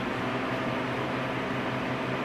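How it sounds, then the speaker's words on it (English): A freeze dryer's valve is opened to release pressure, giving a steady, even hiss over a low mechanical hum that holds unchanged throughout with no voices. "We're gonna open the valve,"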